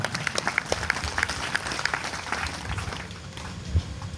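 An audience at a Gujarati bhajan satsang claps together for honoured saints, a lively burst of applause that peaks early and then gradually thins out over a few seconds.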